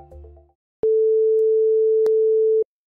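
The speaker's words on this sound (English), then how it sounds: "We'll tell it to play a sine wave with a frequency of 440, or a perfect A, for 2 seconds" A pure 440 Hz sine tone generated by code on Replit, one steady beep held for about two seconds after a brief burst of other sound, then silence.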